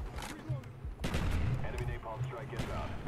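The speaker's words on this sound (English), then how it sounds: "That's a grenade." A grenade exploding during a Call of Duty Black Ops match on PC, a heavy burst of blasts and gunfire with a deep rumble, loud and close, while a player talks over the action.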